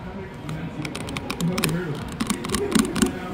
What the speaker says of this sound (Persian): عاشق این صدام، خیلی بامزه است این کیبورد